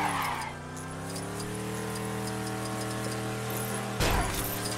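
A car in the Lego DC Super Villains video game drives along with a steady, droning engine hum that holds level throughout, then gives a brief louder rattle near the end.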